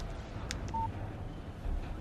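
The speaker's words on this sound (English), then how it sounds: "Text message from Barry." A brief electronic text message alert chimes from a phone in the Alan Wake video game, a short faint tone over quiet background hiss.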